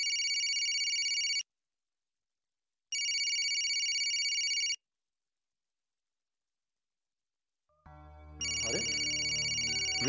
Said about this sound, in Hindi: ये तो यूसुफ के स्कूल से फोन है।